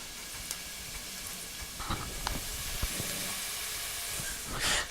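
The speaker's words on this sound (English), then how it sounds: "Now that our garlic has started to sizzle in the oil a little bit" Steady broadband sizzle of garlic frying in oil, continuous hiss with occasional crackles and pops, close and moderately loud, no talking.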